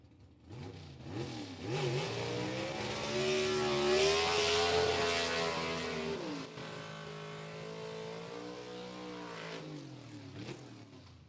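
Southeast Gassers drag race cars with four-speed gearboxes launch at Rockingham Dragway, engines revving hard with rising and falling pitch through gear changes, loud and close, then fading as the cars pull away.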